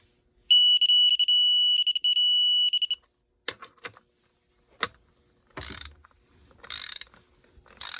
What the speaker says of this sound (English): Torquing these all to 5 Newton meters.